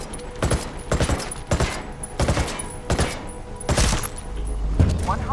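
Rapid bursts from a fast-firing gun during a Ghost War PvP match: short, loud, evenly spaced volleys repeating roughly every half second, close and dominant.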